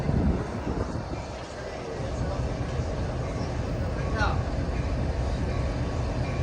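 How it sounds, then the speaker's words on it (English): Amtrak Capital Corridor train 541, led by an F59PHI locomotive, rumbles steadily closer with a broad low roar. "here comes Amtrak Capital Corridor train 541"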